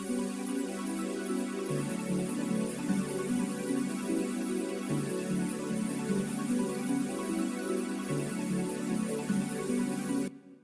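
An arpeggiated synth pattern plays in music production software, a bright, repeating stepped sequence of notes that cycles steadily for about ten seconds and then cuts off abruptly. No one speaks over it.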